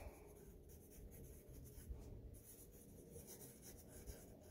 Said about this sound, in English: I'll get a piece of paper and I'll write